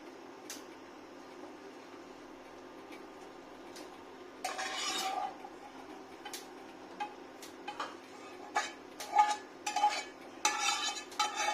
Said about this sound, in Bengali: রান্নাটা একটা বাটিতে ঢেলে নেব